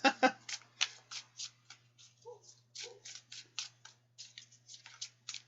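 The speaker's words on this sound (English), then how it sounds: "these I'm just going to keep shuffling until something comes out" Playing cards shuffled repeatedly in the hands, a quick series of crisp riffles and snaps, close and fairly quiet, with brief pauses between bursts.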